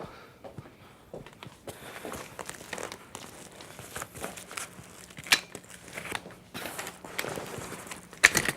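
Envelope material is unfolded and spread out, producing irregular bursts of crinkling and rustling with sharper crackles and handling knocks, close by and with no talking.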